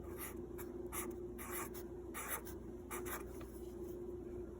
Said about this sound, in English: So for flour, we're gonna write that down.